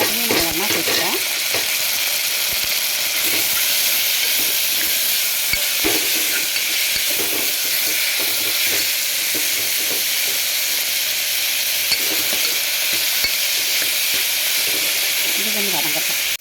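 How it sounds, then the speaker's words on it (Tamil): Tomatoes with ginger garlic paste sauté in a pan for biryani, a loud, steady sizzle with occasional stirring scrapes, continuing throughout with no talk over it. "இது கொஞ்சம் வதங்கட்டும்."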